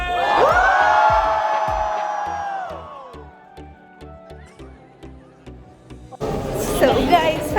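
A large crowd at a motivational speaking session in Uttarakhand fills the space with loud cheering and chatter. High, whinnying calls rise early on, then a noisy swell of voices surges near the end.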